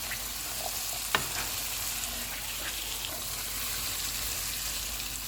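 Boiled chickpeas sizzling and being stirred in a pan, with a steady low frying hiss and one sharp clink of a spoon against the pan, no talking.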